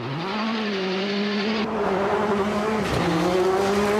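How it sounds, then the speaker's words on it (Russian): Rally car launching from the start line in a Colin McRae video game, a loud, steady engine drone with tire squeal as the revs climb, briefly dipping near the end before pulling on, with no talk. "Бросаешь сцепление, и если держак нормальный, то просто давишь газ в пол"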